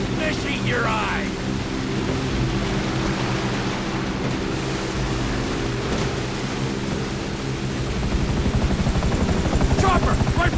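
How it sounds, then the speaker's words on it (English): A helicopter's rotor in GTA 5 chops steadily under heavy rushing noise, growing louder and closer toward the end, with brief voices near the start. "Chopper, right behind us."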